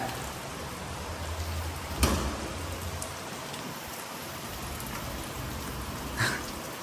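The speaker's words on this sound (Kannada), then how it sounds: "ಮಳೆ" Rain falls steadily outdoors, a continuous dense hiss of drops on surfaces at moderate level, with a couple of brief louder splashes or knocks and no talk.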